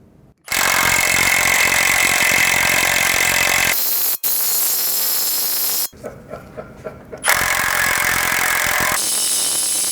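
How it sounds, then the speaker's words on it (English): A loud impact wrench rattles in long continuous bursts, stopping briefly and restarting, with short hammering pulses in between, as it loosens an axle bolt on a Volkswagen. "I'm using an impact."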